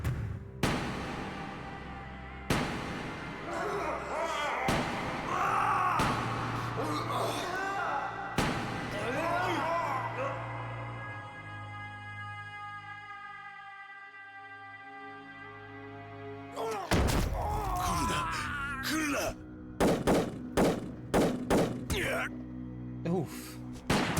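Gunshots in Yakuza 4 Remastered ring out as loud, sharp, widely spaced blasts amid game music, with a quick burst of several shots near the end.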